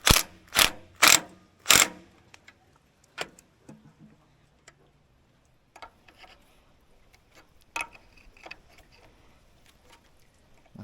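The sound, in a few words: ratchet tightening on homemade log splitter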